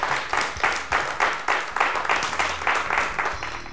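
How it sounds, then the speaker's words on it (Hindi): An audience at a televised talent show claps loudly in a synchronized rhythm as a judge is introduced, sharp collective beats arriving about three times a second in an even pulse from start to finish. "जोरदार तालियां।"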